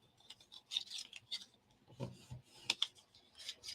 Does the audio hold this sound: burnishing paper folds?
yes